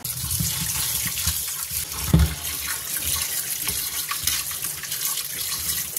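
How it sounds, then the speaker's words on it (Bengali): Tap water runs steadily into a kitchen sink while fish is rinsed, a continuous close splashing hiss with a brief heavier thump of handling midway. "আগে মাছগুলোকে ধুই"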